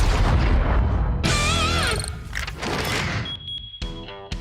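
A twin-gun vehicle in a video game fires its cannons: a string of loud, close booms and crashes, with electronic game tones and ringing mechanical sounds between the shots.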